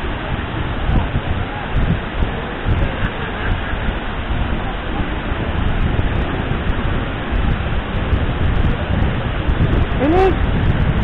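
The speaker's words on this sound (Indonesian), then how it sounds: "Air terjunnya tinggi, kencang, jadi selain hujan ada rintik air juga dari air terjunnya." A tall, powerful waterfall roars steadily in heavy rain, a dense continuous wash of falling water and spray, loud and close throughout, with a brief faint voice near the end.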